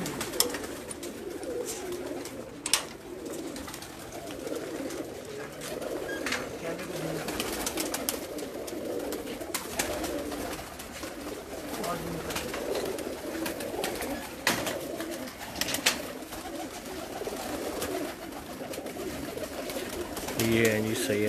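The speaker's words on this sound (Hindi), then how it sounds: "सैयद तसव्वुर शाह साहब के जोड़ों वाले कबूतर।" Pigeons in pairs on a rooftop coo repeatedly in low soft calls over steady outdoor ambience, with occasional faint voices and light knocks nearby.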